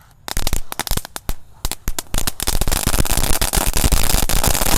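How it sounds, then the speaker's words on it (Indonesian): A whole pack of colorful crackling "telur dino" firecrackers goes off at once in a loud, dense run of sharp pops and crackles, starting as scattered bangs and building into a continuous crackle. "ada mercon telur dino pretek atau mercon kretekan ya. Kita nyalakan satu pak sekaligus ini"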